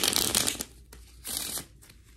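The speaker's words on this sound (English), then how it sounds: "I'm going to do 2 more shuffles." A deck of cards being shuffled up close, two quick riffling bursts separated by a short pause.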